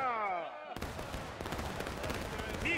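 Musket volleys crackle across a War of Rights battlefield, a dense run of sharp overlapping shots following a shouted command, with more distant firing continuing after.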